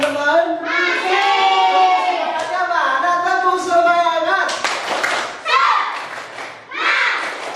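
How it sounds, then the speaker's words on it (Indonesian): A class of schoolchildren in an Islamic religious education lesson claps rhythmically together while voices chant along, producing bright, sharp hand claps mixed with group vocals throughout. "Beri tepuk tangan untuk kita semuanya."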